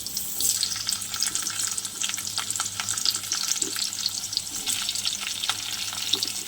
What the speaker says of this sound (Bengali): কড়াতে তেল দিয়ে দিয়েছি। এবার আমি এক এক করে আলুগুলো দিয়ে দেবো।